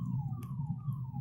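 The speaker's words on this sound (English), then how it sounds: "this is an ambulance coming behind" An ambulance siren wails on a busy Nagpur road near a double-decker flyover, coming up from behind with a steady, falling tone over loud traffic rumble.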